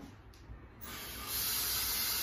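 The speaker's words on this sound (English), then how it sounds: "My hand's a little sticky. Let me rinse that off." Tap water runs in a steady hiss, swelling louder as sticky hands move under the stream during kitchen food prep, close and continuous.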